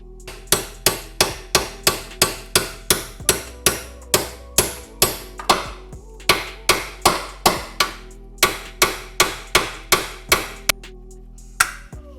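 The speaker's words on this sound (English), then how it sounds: "The old hammer should do the trick though." Repeated heavy metallic hammer blows, about two per second, ringing sharply against a seized nut on a BMW E36 M3 front subframe, with brief pauses between bursts.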